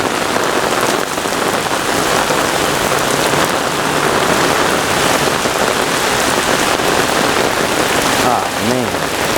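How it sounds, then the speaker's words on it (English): Heavy rain pours down on a construction site during a severe Brooklyn thunderstorm, a loud, dense, unbroken hiss that fills the whole span, with a faint voice briefly audible near the end. "the rain is just pouring down on them like crazy"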